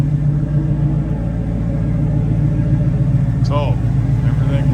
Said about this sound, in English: Let you listen to the exhaust